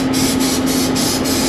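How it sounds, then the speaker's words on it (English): Spray butter or cooking oil is sprayed into a pan in a rapid series of short, loud hissing bursts, heard up close over a steady engine hum. "First thing I'm gonna do is I brought some like spray butter, oil, something"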